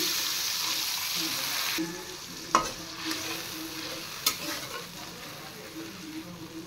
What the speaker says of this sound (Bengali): এবার একটু ফ্রাই করে সামান্য একটু জল দেব।